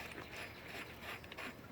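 A puller tool grinds and ratchets as it draws the pulley off a 2008 Chevy Impala power steering pump, giving a steady close mechanical clicking and scraping with faint rhythmic ticks and no talk.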